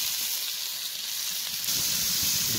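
Onions fry in hot oil in a pan, giving a steady bright sizzle and hiss that swells slightly louder partway through.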